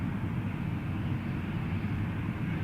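A Copa Airlines Boeing 737-800 airliner at Toronto Pearson Airport gives a steady, low jet-engine rumble that holds at even loudness from start to finish with no voices.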